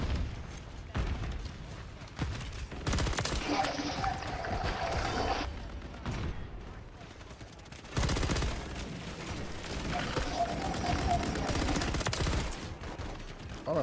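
Call of Duty MW3 gunfire rattles in fairly quiet, dense bursts alongside mechanical clicks and game noise, with a player talking at times.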